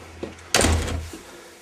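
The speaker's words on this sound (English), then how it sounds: "Close that big door." A big door is pulled closed with one solid thud and a short rumble, preceded by a faint knock, near and fairly loud, with no speech.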